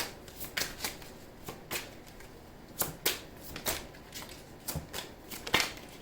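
A deck of tarot cards is shuffled and cards are drawn, giving sharp, close snaps and riffles at uneven intervals over a faint steady background, with no talking.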